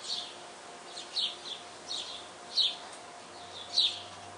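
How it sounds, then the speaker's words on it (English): Small birds calling in a backyard near a water dish and a table scattered with peanuts, four or five short, faint chirps at irregular intervals over quiet background hiss. "Two birds are there right now."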